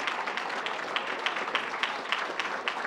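A commencement audience applauding the deans, a dense steady patter of many hands clapping at moderate distance, continuous throughout with no break.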